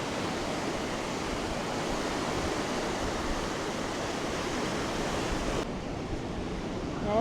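Ocean waves on a shore where they roll in with uneven force, a steady loud broadband wash of surf close by, continuous with no distinct single break standing out.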